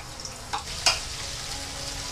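Spice paste sautés in five tablespoons of cooking oil for fried macaroni, a constant sizzling crackle with a couple of sharper spatters and stirring scrapes, close and steady with no talking.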